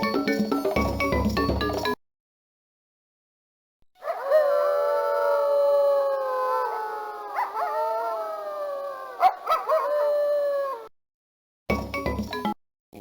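Wolf howl from an animal-vocabulary PC game: one long, sustained, wavering howl lasting several seconds, loud and clear with no talk, framed by short bursts of game music before and after.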